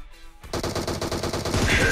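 Rapid automatic gunfire in PUBG Mobile, a loud, fast, unbroken burst of shots starting abruptly after a short quiet moment and continuing to the end.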